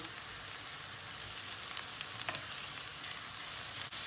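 Minced meat hits a pan of frying onions, setting off a steady, close sizzle with a few light scrapes and taps, no voices.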